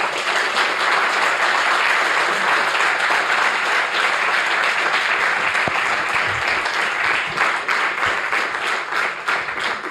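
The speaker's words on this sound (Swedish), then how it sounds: "Jag skulle önska att vi ger en stor och varm och lång applåd till Erik." Long, warm applause from an audience at a business council's annual meeting, steady dense clapping that fills the whole stretch at full loudness and barely tapers toward the end.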